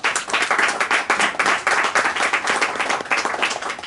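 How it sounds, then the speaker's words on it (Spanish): An audience applauds the panel opening a world writers' gathering, with loud, dense, steady clapping from many hands that continues unbroken throughout. "Un fuerte aplauso para ellos."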